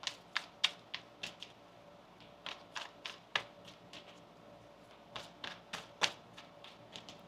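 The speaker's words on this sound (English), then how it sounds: "One more shuffle here, please" Tarot cards are shuffled by hand, producing a series of crisp, close taps and flicks in irregular clusters over a quiet background.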